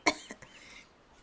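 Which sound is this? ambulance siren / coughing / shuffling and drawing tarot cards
coughing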